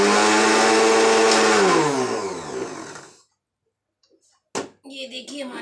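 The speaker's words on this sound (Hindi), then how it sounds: "मिक्सी में पीसने चल रहे हैं।" A mixer grinder roars loudly for about three seconds grinding soaked lentils, its pitch sliding down as it winds to a stop, followed by a short clatter and a brief voice.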